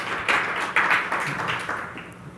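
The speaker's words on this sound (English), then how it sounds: "This is our GA team clapping" Audience applause at a Google Analytics Summit keynote, a soft, fairly distant patter of clapping that rises in a few swells and then thins out toward the end.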